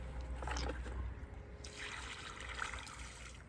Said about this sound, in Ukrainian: Цю землю, яка у нас була сухенька, стояла в тачці, чекала черги, то проливаємо водою.